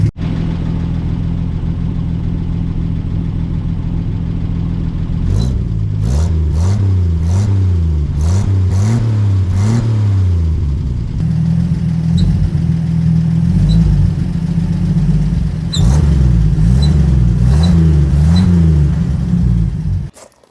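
A small 125cc motorcycle engine idles with a throaty exhaust, then gets blipped in a series of quick, repeated revs close up.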